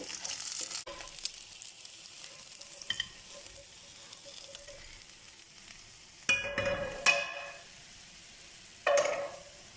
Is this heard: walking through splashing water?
no